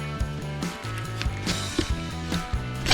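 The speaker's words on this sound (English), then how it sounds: "I did use the open end wrench to loosen off that jam nut." An open-end wrench works loose a 12mm jam nut on the belt tensioner of an L300 Delica with a 4D56 engine, producing a close, loud run of metallic ratcheting clicks and creaks over a few seconds with no talking.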